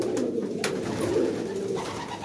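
A young male pigeon, single-coloured with broad neck rings, gives a low rolling coo that swells and fades over about two seconds, close by with a couple of soft clicks.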